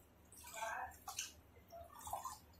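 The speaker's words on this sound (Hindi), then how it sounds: "पूरे पानी चावल का निकाल देते हैं।" Water poured off boiled rice through a strainer during home biryani cooking, faint trickling and splashing in short bursts with quiet gaps between them.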